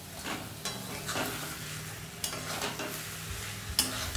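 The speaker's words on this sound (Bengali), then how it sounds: "এখানে ভেজে রাখা পটলগুলো এবার মা দিয়ে দিচ্ছে।" Fried pointed gourd pieces being stirred into a poppy seed curry, with soft scraping stirs, a light sizzle and a few clinks of utensil against the pan, close and fairly quiet, no talking.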